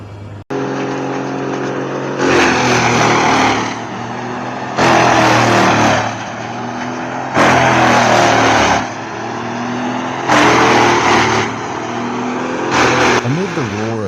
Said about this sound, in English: Amid the roar of engines and swirling with dust, the loader and chipper work together in perfect harmony